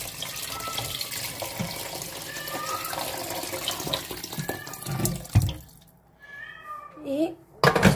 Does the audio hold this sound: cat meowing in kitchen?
yes